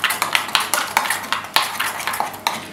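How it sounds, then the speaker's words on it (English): Yogurt being stirred into marinade ingredients in a bowl for a small piece of lamb or chicken. Rhythmic scraping and clinking strokes of a utensil against the bowl repeat steadily at close range, with no talking. "I'm just using 1 tablespoon of yogurt and mixing it with the ingredients"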